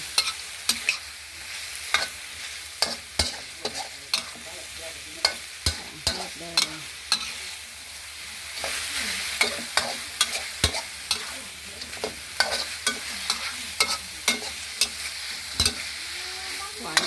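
Rapid metallic scraping and clanking of a spatula in a wok over a steady frying sizzle as noodles with bean sprouts are stir-fried, with sharp strikes at an irregular rhythm, close and alone.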